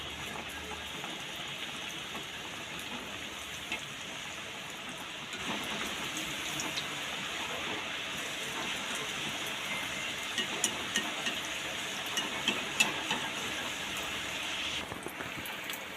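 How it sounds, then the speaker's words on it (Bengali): Chicken patties frying in hot oil turned down slightly, a steady dense sizzle and crackle, close and continuous with no talk. "চিকেন প্যাটিসটা আমি এরমভাবে দিয়ে দিচ্ছি তেলের মধ্যে"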